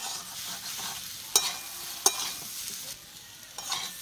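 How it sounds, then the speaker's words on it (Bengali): Spice masala for amla pickle fries gently over a low flame, giving a soft, steady sizzle with a few sharp clicks and scrapes of a spoon against the pan. "মশলাটি দিয়ে আমি ভালো করে ভেজে নিয়েছি।"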